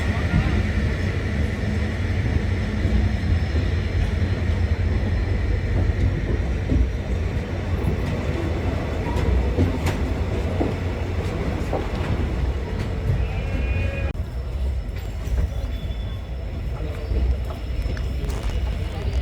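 Pratapgarh superfast train pulling out of Raebareli station toward Lucknow, a steady loud low rumble of wheels and carriages rolling throughout, with faint metallic squeals and a slight drop in level near the end.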